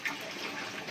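Water runs from a tap during household dishwashing, a soft steady hiss and splash that is faint and continuous with no talk.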